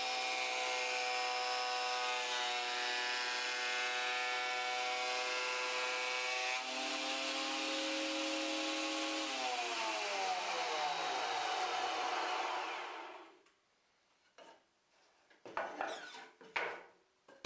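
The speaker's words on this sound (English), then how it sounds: "Here is milling a rough sawn piece of cherry." A jointer mills a rough sawn cherry board in a loud, steady whining roar that shifts pitch partway through, then spins down and stops, followed by a few brief knocks and clatters.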